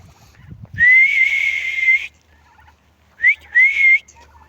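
Turkeys in a flock being fed greens give loud, close, whistling calls: one long sustained call, then after a pause two shorter rising calls, over quiet background with faint low rustles at the start.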